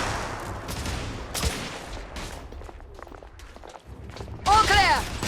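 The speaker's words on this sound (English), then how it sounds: "Lay down suppressive fire!" Gunfire in The Order 1886 crackles in scattered bursts and single shots, some sharp and close, others duller, while voices speak over the fighting and a louder burst flares near the end.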